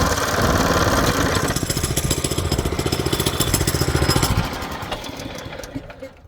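A small lawn mower engine runs loud and steady with a rapid pulsing chug, then drops off and sputters toward silence near the end, with the choke off.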